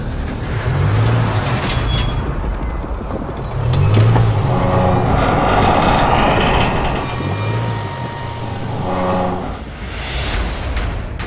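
A lightly modified Land Rover Discovery Sport, fitted with casters to run on rails, tows a train, giving a steady engine drone with rumbling wheels on track and rising, falling throttle swells across the whole stretch.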